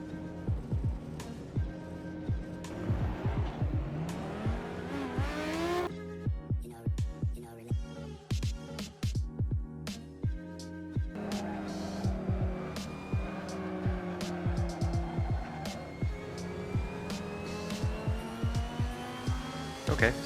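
Race car engines in the Assetto Corsa video game rev and shift repeatedly with tonal whines and sharp gear changes, heard clearly and without talk over a long stretch of the simulated race.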